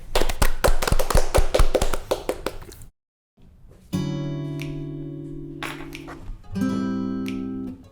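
An audience claps in a fast, dense burst of applause for about three seconds before a song, then falls silent as sustained music begins.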